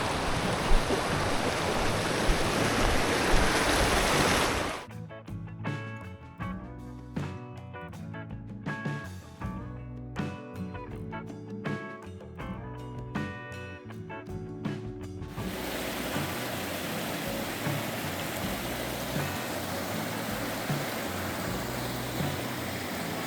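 Small, crystal-clear snowmelt streams run across a mountain hiking trail near Blackhead Peak in Colorado, giving a steady close rushing wash of water that briefly gives way to a stretch of music before the flow returns.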